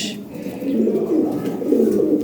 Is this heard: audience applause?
no